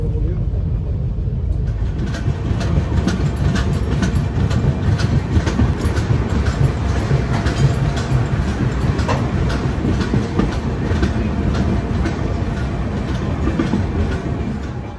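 Inside the Howrah–Barbil Jan Shatabdi Express running near Santragachi, a steady loud rumble of wheels on rails carries rhythmic clickety-clack beats throughout.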